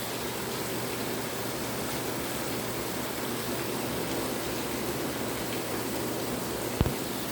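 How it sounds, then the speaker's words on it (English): Steady, dense hiss of heavy rain pouring down, constant and enveloping with no letup, plus one brief faint knock near the end. "it's pouring down rain outside"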